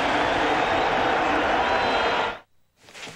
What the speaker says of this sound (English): And this crowd is alive and well